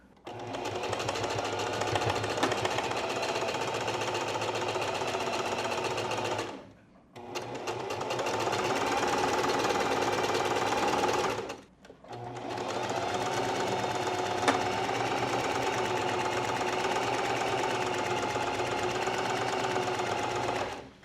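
Straight stitching on a sewing machine closes garment plackets close to the edge, with the needle set to the left, in three long steady runs broken by two brief pauses, loud and close.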